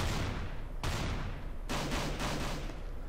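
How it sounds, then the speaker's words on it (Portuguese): Rapid bursts of Counter-Strike: Global Offensive gunfire, dense and continuous across the clip, with sharp broadband volleys starting around the middle over a steady loud background of in-game noise, no speech. "Eu tô ouvindo tiro pra cá, pra esquerda."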